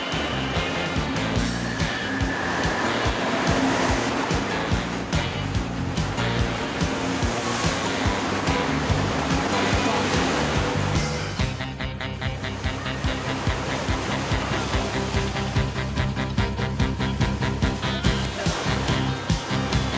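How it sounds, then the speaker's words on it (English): Indoor wave pool and water slides at World Water Park in West Edmonton Mall, 1990, make a broad, steady roar of surf and rushing water, with a distant crowd murmur under a continuous wash. "The World Water Park's total area of over 5 acres holds activities suited to all ages and all levels of aquatic skill."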